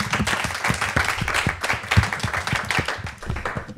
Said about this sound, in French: On peut à nouveau vous applaudir.